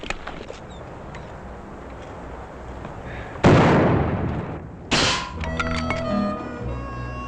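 Rifle shots in a Western gunfight, two loud sharp blasts a second or so apart, each with a rolling echo that fades into the open air, followed by more scattered outdoor noise.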